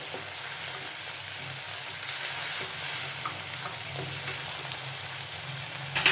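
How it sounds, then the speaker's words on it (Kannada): Hyacinth beans (avarekalu) and sliced tomatoes fry in hot oil for uppittu, giving a steady, close sizzle with faint stirring scrapes throughout and no talking. "ಸ್ಲೈಸಸ್ ಮಾಡಿರೋ ಟೊಮೆಟೊ ಹಾಕ್ಕೊಂಡು ಚೆನ್ನಾಗಿ ಹುರ್ಕೊಳ್ಳಿ"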